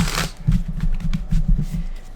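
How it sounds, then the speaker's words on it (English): A tarot deck shuffled by hand in a steady run of soft, rapid card flutters, close and fairly even for a couple of seconds, with no voices. "So 2 more shuffles."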